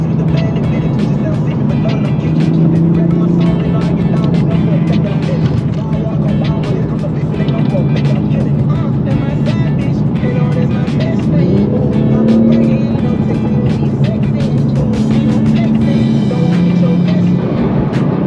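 A Toyota Supra sports car's engine drones loudly and continuously, revving and shifting as it drives at speed, with wind and road noise.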